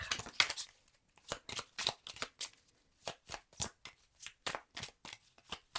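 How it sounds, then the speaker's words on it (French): Cards from a flower card deck being shuffled and riffled by hand, a close, quiet run of quick papery flicks and rustles in irregular bursts. "je prends une dernière carte pour vous, une carte des fleurs"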